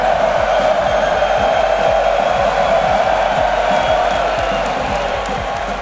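Crowd in an esports arena at the Rocket League World Championship semifinals, a dense, loud roar of cheering and whooping that holds steady and fades slightly at the end.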